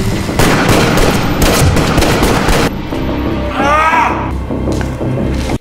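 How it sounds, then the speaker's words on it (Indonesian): Rapid gunshots in a film scene, dense loud bursts of fire in the first half, then a brief lull with rumbling before more shooting resumes and cuts off abruptly. "Garrett berhasil menembak Markus"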